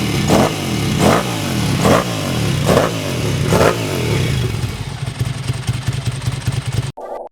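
A Ducati motorcycle at a Ducati specialist workshop revs hard in several loud, regular surges, then settles into a rough, clattering idle close by before cutting off abruptly.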